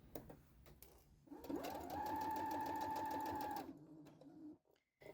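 A sewing machine stitches a seam along tape in a steady, close, even run of about two seconds, starting and stopping cleanly with quiet room sound around it.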